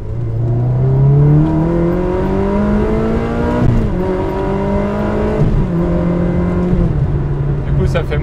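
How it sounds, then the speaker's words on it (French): Tuned car engine blipping the throttle on downshifts, loud close revs that rise and fall in several stepped sweeps, with a voice speaking over the engine. "petit coup de gaz pour rétrogradage"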